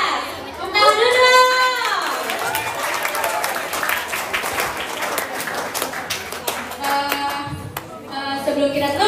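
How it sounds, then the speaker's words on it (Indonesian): Audience clapping for two podcast guests at a Ramadan event, lively handclaps mixed with a speaker's voice and chatter, rising briefly then fading under continued talk. "Tepuk tangan dulu"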